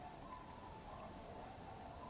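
Steady, even rain in the video game Disco Elysium, a dense, unbroken patter with no voices, moderately quiet throughout.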